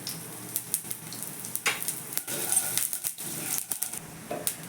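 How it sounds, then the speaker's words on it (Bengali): Bay leaves, a dried red chili and half a spoon of panch phoron spices crackle in hot oil for a Bengali lau ghonto, with steady close sizzling and scattered sharp pops. "ওই তেলের মধ্যেই দুটো তেজপাতা একটা শুকনো লঙ্কা আর এখানে হাফ চামচ পাঁচ ফোড়ন ফোড়ন দিয়ে দিচ্ছি"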